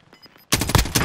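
Gunfire in Call of Duty Warzone, a sudden loud burst of rapid shots that erupts after a quiet lead-in and keeps going in close, dense cracks.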